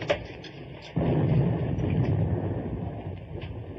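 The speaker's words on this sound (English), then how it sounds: "Our escort must be dropping depth charges." Distant depth charge explosions in a 1944 war film, a muffled low rumble that swells suddenly and lingers over a steady background hum.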